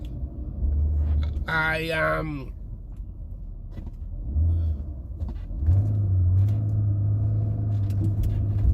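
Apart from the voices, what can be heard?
passing car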